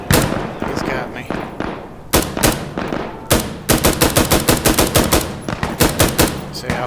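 M249 SAW machine gun in Insurgency: Sandstorm fires loud, close bursts, starting with scattered shots and settling into a steady rapid rhythm of sharp cracks.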